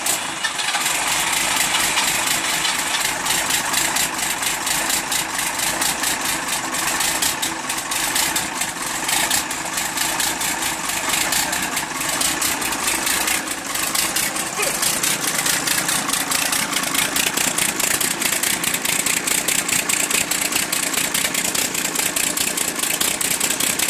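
A Ford Dorset 6.2 litre, 180 horsepower tractor diesel runs steadily at idle with a constant mid-low drone, close and fairly loud throughout, without any clear speech.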